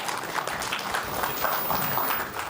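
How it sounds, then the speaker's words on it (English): Audience applause for the head of school at the Ashford Academy 2025 Grade 12 farewell luncheon: steady, fairly quiet clapping from a crowd, continuous throughout without a break. "A big round of applause for the head of school."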